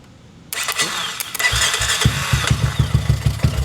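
A motorcycle engine catches and starts after the start switch is shorted out, sputtering into a rough, uneven idle with rhythmic low pulses, close and fairly loud, preceded by a brief mechanical clatter.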